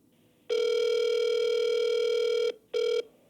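A telephone call ringing out to a client: a steady electronic ringback tone plays for about two seconds, then a shorter burst follows after a brief gap. The sound is clear and continuous, with no talking.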